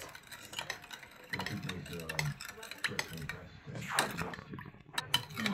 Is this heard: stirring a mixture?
yes